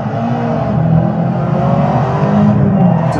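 Racing car engine in an Assetto Corsa-style driving simulator, holding a sustained droning rev with slight swells in pitch, steady and close throughout.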